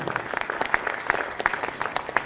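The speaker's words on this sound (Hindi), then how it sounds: "तो एक जोरदार तालियां होनी चाहिए।" A crowd clapping steadily, dense and continuous applause with a few sharper individual claps standing out.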